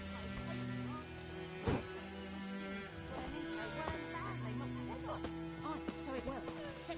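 Horse neighing in The Witcher game, several whinnies rising over low background music and ambient sound, with a voice speaking over it.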